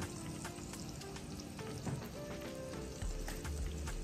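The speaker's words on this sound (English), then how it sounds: "We're adding about a tablespoon of oil, bacon grease." Bacon sizzles and fries in a tablespoon of oil and bacon grease, a steady crackling hiss running throughout with brief stirring clatters and small pops near the end.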